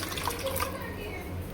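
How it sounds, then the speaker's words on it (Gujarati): Water trickles briefly and softly into flour mixed with oil to make gathiya dough, a faint short pour. "થોડુંક પાણી નાખવાનું છે"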